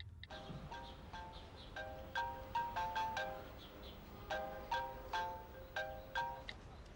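A phone rings with an incoming call, a melodic electronic ringtone repeating in bursts of bright chiming tones over a quiet room, with no talking.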